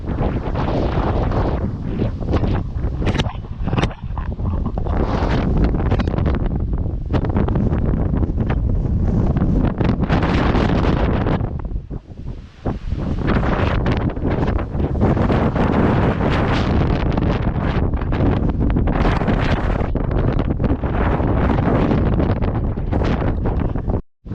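Strong wind buffets the microphone on a mountain path to Thoppaiyaswamy hill between Karur and Dindigul, a loud, roaring gusting that rages almost nonstop with one brief lull.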